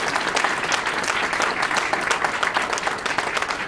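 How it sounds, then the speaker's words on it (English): Steady, dense applause from an audience at a Chicago town hall, continuous clapping at even loudness throughout. "I think Mr. Chuy Garcia deserves a louder round of applause."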